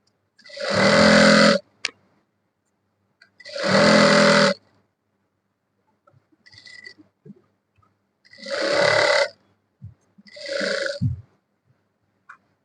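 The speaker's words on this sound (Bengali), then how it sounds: "এক চাপ পরিমাণ একটা সেলাই দিয়ে নিই ধরে এক চাপ পরিমাণ একটা সেলাই দিই" A sewing machine stitches three-quarter pants in short separate bursts, four main runs of rapid needle chatter, each about a second long, with quiet pauses and faint handling noises between them.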